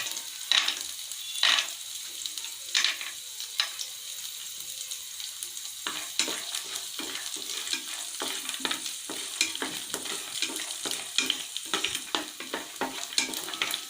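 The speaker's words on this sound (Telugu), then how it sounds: "ఇందులో పల్లీలు వేసుకొని వేయించుకోవాలి" Peanuts frying in oil over a medium flame in a home kitchen, a steady close sizzle with irregular scraping stirs and occasional sharp clicks throughout, no voices.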